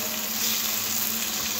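Flat beans frying in oil in a pan, a continuous close hissing sizzle over a brief moment, with no talking.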